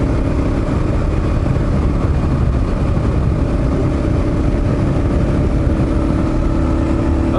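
A Kawasaki KLR 650 motorcycle on brand-new tires rides steadily, its engine droning loud and constant with heavy wind rumble throughout and no change in pace.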